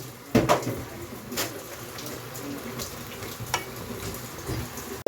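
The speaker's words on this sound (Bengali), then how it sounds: "আগে শাকটাকে ভাজি করতেছি" Leafy greens fry quietly in a home kitchen pan, a low sizzle broken by a few sharp spatula scrapes and knocks at irregular intervals, close by and fairly soft.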